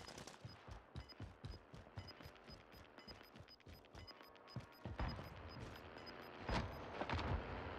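Gunfire in the video game Warzone: a rapid run of faint, distant shots that grows into louder, heavier bursts near the end.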